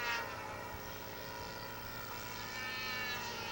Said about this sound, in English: Gary Parker is getting his Albatross into the air for his first flight on Sunday morning